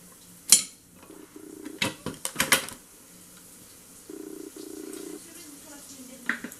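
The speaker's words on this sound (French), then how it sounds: "Donc là, je vais juste le mélanger un petit coup." A spoon clatters and scrapes against a cooker pot in a few short bursts of stirring, near and fairly loud, with quieter pauses and low hum between them.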